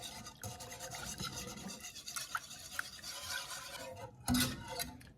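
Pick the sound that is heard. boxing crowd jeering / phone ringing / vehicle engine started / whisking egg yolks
whisking egg yolks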